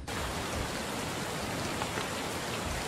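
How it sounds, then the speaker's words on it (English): Steady simulated rainfall from a dynamic weather system in Unreal Engine 4, a dense, even hiss of rain on surfaces that begins right away and holds constant throughout with no voices. "started raining"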